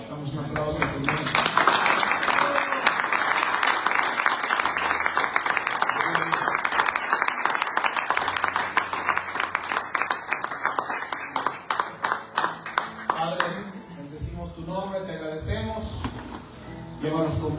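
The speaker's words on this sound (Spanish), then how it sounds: "Damos un aplauso al Señor" A church congregation claps and applauds at a Sunday service, loud and sustained for most of the stretch before tapering off, with a voice speaking over the end.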